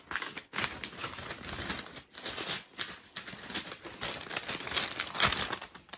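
A plastic bag crinkles and rustles steadily as a diaper is packed into it, close up, with irregular bursts of crackling and brief pauses.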